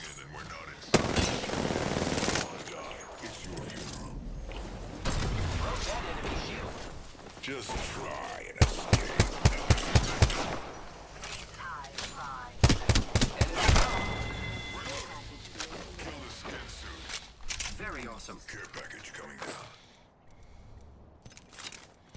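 Video game gunfire in Apex Legends: bursts of rapid automatic shots and single cracks repeat through the clip. Players talk over the shooting.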